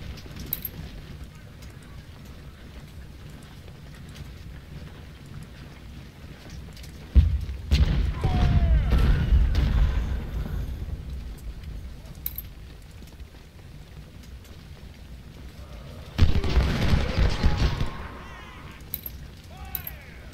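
Infantry volley fire in the Ultimate General: Civil War strategy game at Gettysburg, heard as two rolling bursts of massed musketry, each a couple of seconds long and fairly loud, over a low battlefield rumble.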